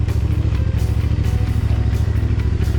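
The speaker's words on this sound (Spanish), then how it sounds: "Estamos saliendo, ya tenemos las motos listas." Suzuki DR150 motorcycles idle and pull away with a steady, close single-cylinder engine chug and a rhythmic, loud exhaust pulse.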